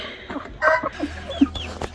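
Chickens and roosters clucking in a backyard flock, several short close calls and squawks in quick irregular succession.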